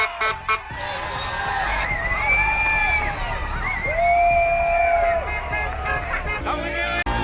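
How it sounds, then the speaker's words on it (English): A crowd cheers and shouts in Banbury Market Square, sustained lively voices and whoops at moderate distance with a few higher shouts rising above the babble. "we've attracted a crowd. Quite a big crowd."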